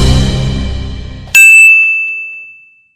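A bright bell-like notification ding rings out once, clean and sustained, then fades slowly after a stretch of broadcast audio cuts off.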